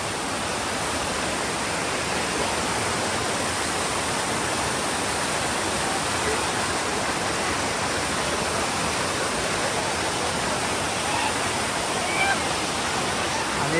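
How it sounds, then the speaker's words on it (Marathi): A waterfall near Adai village in Panvel roars as a constant, even rush of water, a broad unbroken wash of sound that holds the same level the whole time. "तो बघा तिकडची धबधबा आहे"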